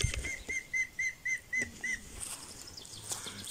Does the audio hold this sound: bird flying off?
yes